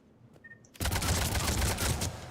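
Shotgun blasts in the video game Mass Effect 3, a loud sudden broadband burst that starts after a quiet beat and rolls into dense, sustained crackling gunfire and impacts for the rest of the moment.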